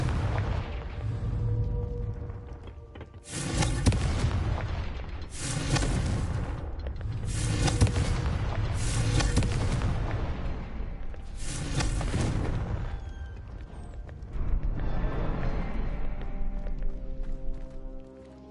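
Confringo explosive spells blast repeatedly in Hogwarts Legacy, five loud booming impacts at roughly two-second intervals, each with a crackling tail, followed by a quieter rumble and a final burst.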